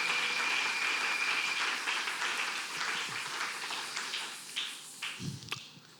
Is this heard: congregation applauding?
yes